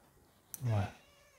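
A cat that has come in from outside gives a single short meow indoors, close and clear, with a faint click just before it and quiet room tone around it.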